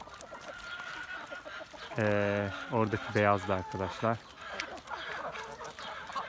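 Mixed backyard chicken flock with Lohmann laying hens, white and brown birds, clucking briefly and loudly in a burst near the middle, with someone talking throughout.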